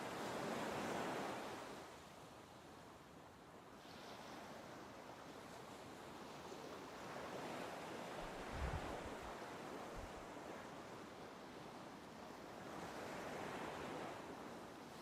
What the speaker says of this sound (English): enjoying the sounds of the waves